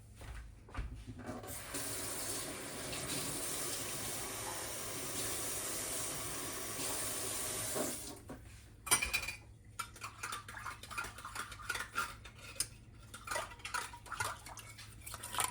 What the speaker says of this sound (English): what I'm doing is rinsing out my can of soup to make sure I get all that in there